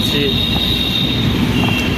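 A Mumbai Metro train rumbles steadily with a high, sustained squeal from the wheels and a muffled background hum, loud and continuous throughout.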